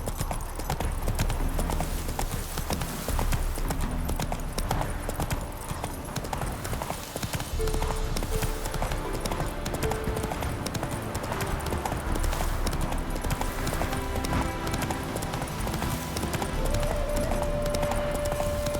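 A horse in The Witcher 3, riding around Novigrad, gallops with a continuous rapid hoof rhythm blended into a dense, busy backdrop of game sound.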